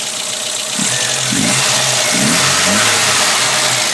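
A 1973 Volvo 142's engine revs up loudly from idle, rising and falling in a few pulls, up close and alone.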